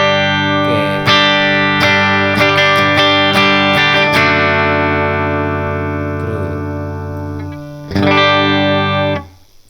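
Electric guitar on the bridge pickup through an Orange amp simulation on a computer, loud distorted chords and picked notes with chorus and reverb, strummed hits then a sustained ringing chord and a final stab, no talk.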